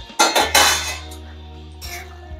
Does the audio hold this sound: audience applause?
no